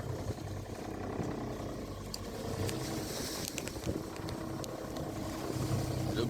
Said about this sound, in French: Le bruit du moteur, vous entendez, on est obligé de mettre du moteur